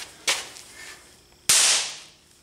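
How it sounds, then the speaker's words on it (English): Homemade impact powder, a single match's worth on wood, explodes when struck with a hammer: two sharp, loud cracks about a second apart, the second stronger with a short ringing tail. "they do explode on impact if you hit them with a hammer or something"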